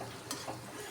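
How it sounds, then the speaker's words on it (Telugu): Raw banana bondas fry in hot oil, giving a steady, close sizzle with faint crackles and a brief stirring scrape. "మంచిగా వేగిపోయాయి, కలర్ వచ్చేసాయి."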